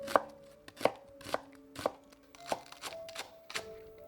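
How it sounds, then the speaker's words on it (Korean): A knife thinly slicing onion on a cutting board, about eight sharp, steady, evenly spaced cuts close up with no talking. "양파도 얇게 썰어냅니다."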